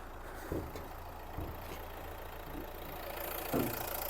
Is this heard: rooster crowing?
no